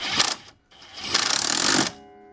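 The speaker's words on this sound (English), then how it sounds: "use your handy dandy impact again" Impact wrench tightening Koni Yellow shock absorber bolts on a 2013+ Ford Focus: two loud close bursts of rapid hammering, a short one then a longer one after a brief pause, ending abruptly.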